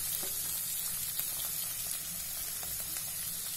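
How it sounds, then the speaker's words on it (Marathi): Peas, carrots and cabbage sizzle and fry steadily in a hot pan for Schezwan fried rice, a continuous close crackling hiss with occasional stirring, no voices. "त्यानंतर मटर सोबतच गाजर आणि पत्ता कोबी पण आपण शिजवून घेऊया."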